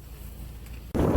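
Wind buffets the microphone during a car trip out in open countryside, a steady low rumble that suddenly swells into a loud, close gust near the end.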